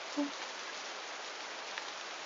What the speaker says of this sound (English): the storm rain pelting him